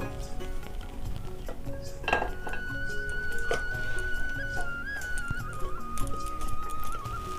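Cooked muri ghonto is tipped from a pan onto a plate, giving light metallic clinks and scrapes of utensil against cookware over a steady musical background, with no talking.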